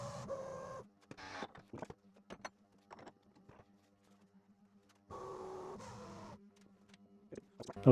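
A CNC milling machine, set to cut a dovetail slowly at 300 RPM, gives off quiet, intermittent whirring bursts and small mechanical clicks separated by near-silent gaps.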